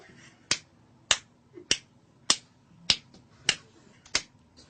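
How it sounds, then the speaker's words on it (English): Inside an elevator, someone gives seven sharp, evenly spaced claps, each a crisp, close snap with a short decay, against a quiet background. "Please clap the amount of corresponding to your selected floor."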